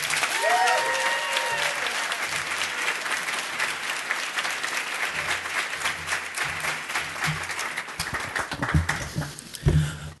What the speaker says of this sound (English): get a big round of applause for Chris